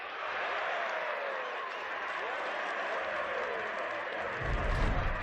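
Arena crowd in the video game Battle Brothers (Blazing Deserts), a dense sustained roar of cheering and clapping across the whole stretch, swelling louder near the end.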